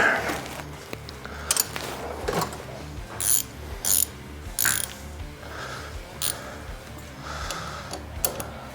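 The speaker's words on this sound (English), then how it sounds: "That's going to be a 1/2 inch. Grab that wrench." A half-inch ratchet wrench working a fastener on a 2022 Harley-Davidson Low Rider ST, with repeated quick bursts of close, crisp ratcheting clicks separated by short pauses, in a quiet garage.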